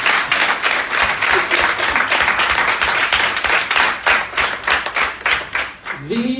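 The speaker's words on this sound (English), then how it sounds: "I want all of us to treat them to a well-rounded hand clap." An audience at a workshop launch in Jamaica claims, giving workshop vendors a round of steady, dense hand clapping that goes on throughout, loud and close.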